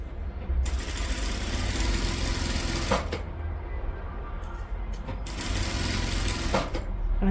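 Sewing machine stitching fabric along a garment collar, running in two long, fast buzzing bursts separated by a short pause, close and clear with no talking.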